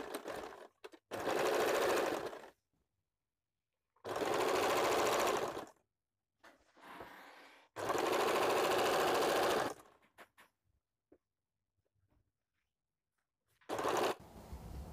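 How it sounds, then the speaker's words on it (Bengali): An electric sewing machine stitching a women's top, running in four loud, steady whirring bursts of a few seconds each, separated by quiet pauses, close up with no talking. "এবার দেখুন সাইড থেকে প্রথম একটা নর্মাল আমি সেলাই দিচ্ছি"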